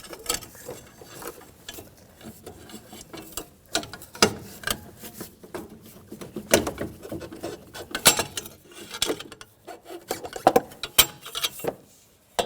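A 17mm wrench working a power steering line loose on a 1992-1996 Toyota Camry rack and pinion, irregular close metallic clicks, ratcheting and scraping bursts, no talk.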